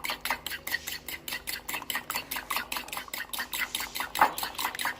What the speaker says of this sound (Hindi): ये कंडा मैंने लिया है, इसे मिक्स कर रही हूँ।